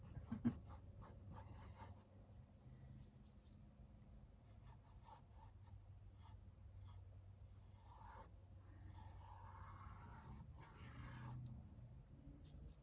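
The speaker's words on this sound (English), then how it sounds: "The crickets are chirping. It is silent here other than crickets." Steady, high-pitched cricket chirping fills a quiet outdoor scene, continuous and moderately faint, with a brief soft knock near the start.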